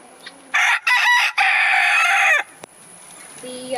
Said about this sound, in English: I'm gonna play a rooster for you so you can hear it too